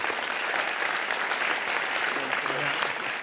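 An audience at the Amsterdam Science & Innovation Awards 2023 ceremony applauds, a dense, steady wash of clapping that holds at full strength throughout, with a voice briefly audible beneath it.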